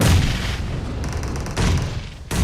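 Grenade blasts in PUBG, a professional esports match: heavy booming explosions with rumbling low end, bursts at the start, near 1.6 seconds and again at the end, loud and close, with no voices.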